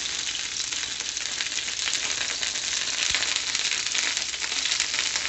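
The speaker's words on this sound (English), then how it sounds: "we grab a little bit of the fat that we took from the meat here, and we spread it on the griddle" Beef fat sizzles loudly on a hot griddle while birria tacos are made, a dense, continuous frying hiss with fine crackles throughout and no voices.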